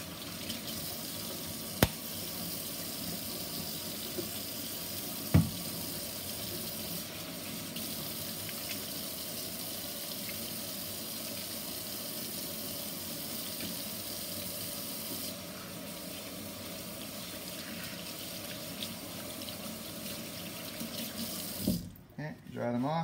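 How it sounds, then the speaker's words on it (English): Water runs steadily from a kitchen tap into a sink during handwashing, a constant close rushing hiss that stops abruptly near the end, with a couple of faint knocks along the way. "wash your hands"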